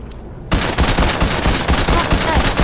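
Rapid automatic gunfire from weapons in a video game bursts in after a brief quiet start and continues loud and dense, shot after shot in a fast, steady stream with no talking over it.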